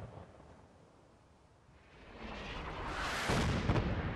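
Artillery fire in Fallout 4: a low distant rumble swelling into a loud, sustained booming roar over the last two seconds, with no voices.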